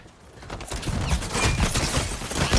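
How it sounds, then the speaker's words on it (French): Dense rapid gunfire from the video game Highguard, a loud sustained barrage of overlapping shots that builds in intensity, with no talk over it. "Je subis des tirs."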